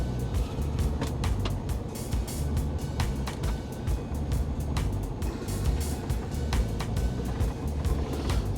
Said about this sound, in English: And my truck is quite squeaky.